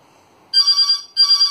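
An electronic phone ringtone sounds in two bright, close bursts of warbling tones separated by a short gap. The bursts are loud and clear, with no talking over them.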